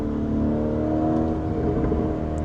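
Lamborghini Temerario engine pulling hard under acceleration, a loud sustained mechanical drone with strong harmonic tones heard from inside the car with the rear windows open, steady and continuous without speech.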